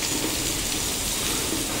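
Heavy rain pours down outdoors in a dense, even, steady roar of drops with no break and no voices.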